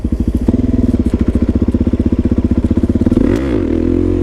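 A motorcycle engine revs steadily at high pitch for a wheelie, its pulsing rhythm dropping near the end as the throttle eases, loud and close with no talk.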